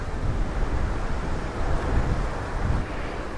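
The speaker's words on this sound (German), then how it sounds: "Es ist sehr windig hier." Strong wind roars steadily, buffeting the microphone with a continuous rumbling rush and no voices.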